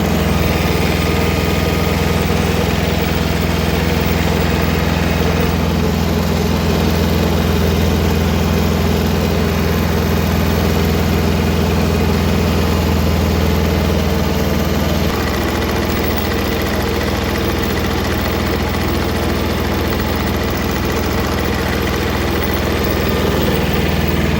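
A Kubota tractor engine idling on a farm during a potato harvest, a steady low rumbling drone with vibration that holds unbroken for over twenty seconds, close and loud, with no talk.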